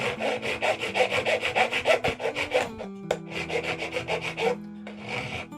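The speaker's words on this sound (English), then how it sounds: "Before I start peening them, I have to rasp them." Back-and-forth rasping on a small leather boot heel being shaped for trekker boots, a steady rhythmic scrape of strokes, loud and close, with a brief pause midway before the strokes resume.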